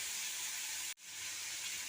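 Potatoes hitting a hot oiled pan while frying chow mein, a loud continuous sizzling hiss that briefly cuts out for an instant before resuming just as strongly.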